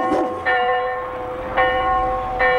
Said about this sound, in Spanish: las campanas de la catedral dieron el toque de queda